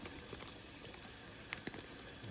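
A pork chop fries crisply in a pan, giving a steady close sizzle with faint crackles and a few sharp pops over the hiss.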